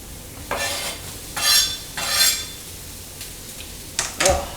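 Onions frying over high heat in a pan, sizzling steadily while a utensil stirs and scrapes them in several short bursts, close and fairly loud with no talking.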